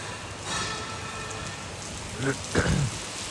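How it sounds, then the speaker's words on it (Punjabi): Steady pre-dawn rain with strong wind falls in a constant hiss over a sugarcane farm, with a couple of brief, faint voice-like sounds rising over it near the end. "ਮੀਂਹ ਤੜਕੇ ਦਾ ਪੈ ਰਿਹਾ"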